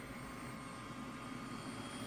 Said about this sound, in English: using the stored up inertia in the rotor blades, I cushion it to the ground